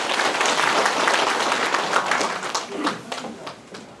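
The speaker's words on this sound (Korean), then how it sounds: "큰 박수 한번 부탁드립니다" Audience at a county government briefing in Geumsan, South Korea, breaking into dense, sustained applause that fills the room and gradually thins toward the end, with murmured voices mixed in.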